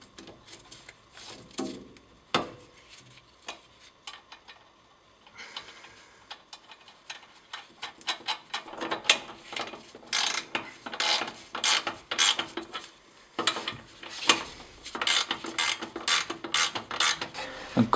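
Repeated ratchet-wrench clicks while a nut is tightened on a car's steering rod, in short bursts that grow faster and denser toward the end, close and fairly loud with no talk.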